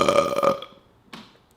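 A single loud, close burp from a man with a throaty, rattling tone lasting about half a second, then quiet with a faint short sound afterward.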